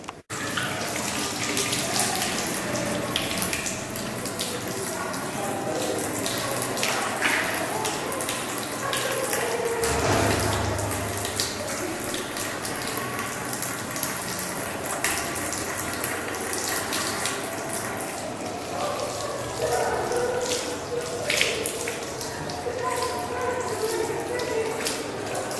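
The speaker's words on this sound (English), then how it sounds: "Hand washing must be done." Running tap water splashing continuously over hands during handwashing, a steady close hiss with small shifts as hands move, with faint voices underneath.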